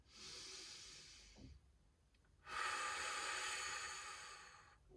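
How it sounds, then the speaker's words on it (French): Two long, deep breaths during a relaxing yoga session, each a steady airy hiss drawn slowly in or out, close to the microphone, separated by a brief quiet pause, with no speech. "Profonde expiration. On va prendre encore 3 respirations ici."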